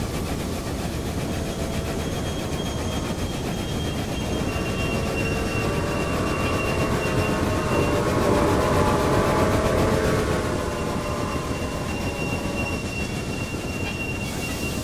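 Trains rumble through a tunnel in the railway video game Railway Empire, with a steady low roar of rolling wagons and thin squealing wheel tones drifting in and out, continuous throughout and without any voices.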